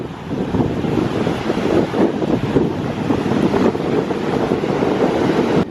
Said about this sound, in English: It's very windy here though, so sorry if you can't hear me very well